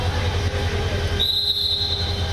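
Train at Kamalapur railway station, a loud steady rumble of rolling carriages with a sharp high wheel squeal rising midway and holding to the end.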